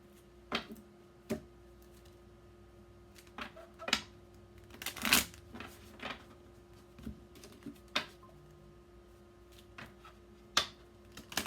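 Traditional tarot cards shuffled and drawn: a series of soft, irregular crisp snaps and riffling flicks, close and fairly quiet, with pauses between, no talking.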